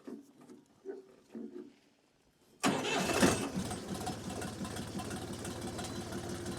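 A DTZ 5354 HPX mini tractor engine cranks and catches abruptly after a quiet stretch, then settles into a loud, steady, close-up diesel idle with an even throbbing patter.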